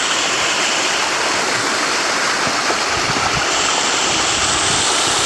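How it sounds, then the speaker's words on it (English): Water pours steadily from a pond siphon outlet, a loud, close, continuous rushing flow with no break and no talking. "There we go. Good stream of water."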